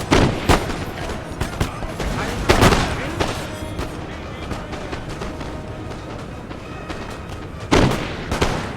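Musket volleys and cannon fire crackle and boom through a Napoleonic battle video game, irregular loud shots and heavier thuds scattered over a continuous rumbling din, with a couple of strong blasts standing out.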